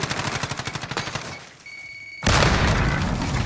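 A cruise missile strike in a Call of Duty-style shooter on the map Hardhat, beginning with rapid automatic gunfire, then a brief lull with electronic tones before a loud, sustained roaring explosion.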